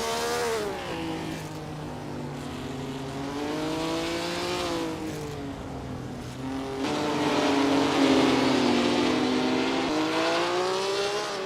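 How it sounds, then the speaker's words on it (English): Race car engines roar and rev continuously in Assetto Corsa at the Thomson Road Grand Prix circuit, loud and close, pitch rising and falling through gear changes and swelling near the end, with tire squeal mixed in. "Each roar of the engine, each squeal of the tire is a chapter in this epic duel."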